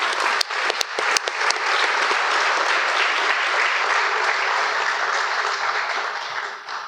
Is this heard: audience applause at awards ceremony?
yes